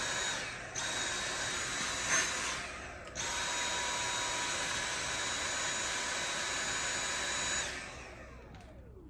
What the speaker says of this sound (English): This vacuum did the big chunk of thermal paste off.